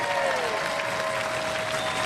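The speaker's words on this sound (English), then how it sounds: "Give them a round of applause." A Robot Wars studio audience applauds a competing robot team, a dense burst of clapping and crowd noise with a faint steady tone underneath.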